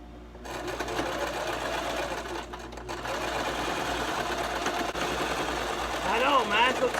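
Brother LS2400 sewing machine stitching a straight seam to close the end of a fabric face mask, a steady close mechanical whir running throughout with a brief pause near the middle, a voice talking over it.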